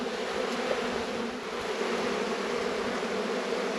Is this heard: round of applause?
no